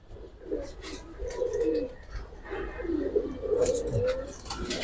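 A pair of old-breed Genda pigeons coo in low, throaty rolling calls, several in a row at close range, with faint chirps and rustling around them.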